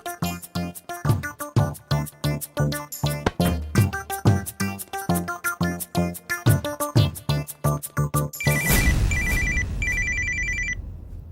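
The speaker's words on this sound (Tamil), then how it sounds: "அந்த ரத்தன் பயலுக்கு ஃபோன் பண்ணி கேட்போம்" A telephone rings on an outgoing call in a Tamil TV serial, with rhythmic tonal pulses followed by bright electronic ring bursts, with no voices.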